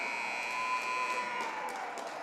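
The final buzzer sounds at the end of a high school ice hockey game at Bushy Arena, one long steady electronic blare carrying over faint crowd noise in a large rink.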